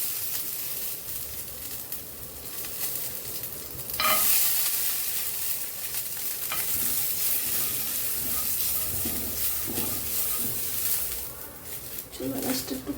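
Nuts and onion frying in ghee in a pan, a steady close sizzle with occasional stirring scrapes and louder bursts as ingredients go in, continuous throughout.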